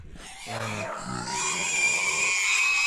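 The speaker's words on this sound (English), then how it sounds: "Got to feed them pigs up." Pigs grunting and snorting up close, a run of low rough grunts over steady background noise.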